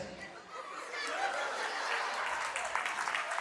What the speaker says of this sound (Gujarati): દીપેશભાઈ માટે 100 તાળી થઈ જાય